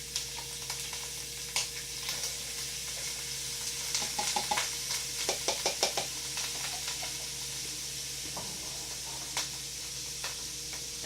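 Onions and corn fry in oil in a pan with a steady close sizzle, broken midway by a run of sharp scraping and clicking stirring strokes against the pan.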